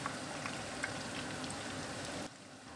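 Steady bubbling and sizzling of crispy breaded chicken frying in hot oil, a constant crackle with small pops, quieter near the end.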